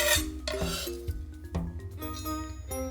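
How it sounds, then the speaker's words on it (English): A knife minces lemongrass on a cutting board with quick, irregular chopping taps over soft background music. "Mince enough lemongrass to make 1/4 cup."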